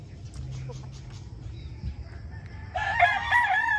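A backyard flock of pet chickens and roosters with a rooster crowing near the end over soft clucks and low background noise.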